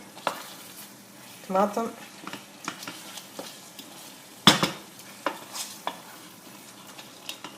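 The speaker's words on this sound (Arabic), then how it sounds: "خليها تتقلى شويه. كنقلي في الطماطم 5 دقائق." Tomatoes frying and being stirred in a pot for lentil chicken soup, with a soft continuous sizzle, intermittent utensil scrapes and knocks against the pot, and a brief word spoken.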